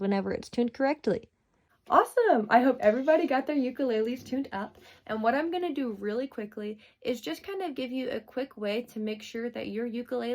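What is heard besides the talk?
No everyday noise stands out behind the speech.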